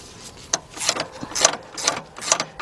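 A wrench tightens a bolt to slacken the alternator belt tensioner on a 1986 Mercury Marquis 3.8, giving a series of short ratcheting clicks in an uneven rhythm, close by and fairly quiet.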